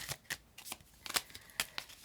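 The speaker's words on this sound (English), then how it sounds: "All these cards flipping over." Tarot cards being flipped over and shuffled by hand at close range: a quick series of crisp papery snaps and flicks in an uneven rhythm, fairly quiet and alone.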